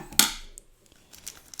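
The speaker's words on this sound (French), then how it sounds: "pardon pour le bruit des ciseaux sur la table" Scissors knock and clack on a table during a Gundam card unboxing, one sharp close clatter followed by a few softer taps and scrapes in an otherwise quiet room.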